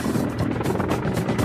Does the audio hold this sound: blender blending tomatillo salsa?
no